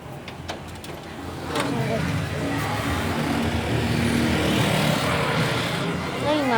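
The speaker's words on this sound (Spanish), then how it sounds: "allá hay un carro" A car passes in the street outside, its engine rumble swelling and holding steady as it goes by, heard from indoors at moderate distance while someone talks over it.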